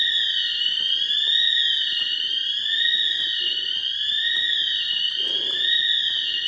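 A store alarm blares inside an abandoned Toys R Us, a steady high-pitched wailing tone that sweeps up and down continuously, loud and close, with faint handling and footstep noises underneath.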